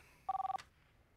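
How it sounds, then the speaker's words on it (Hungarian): A telephone rings once indoors, a short, loud electronic trill of rapid pulses that stops abruptly, followed by quiet room tone. "Ez én telefonom szól."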